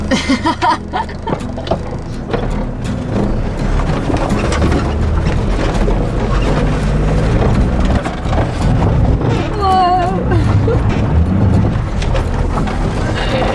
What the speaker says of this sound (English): Spinning the wheels!